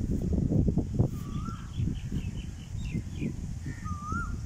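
Two clear whistled Asian koel calls ring out a few seconds apart near a village graveyard, with fainter chirps, over a steady low rumble of wind.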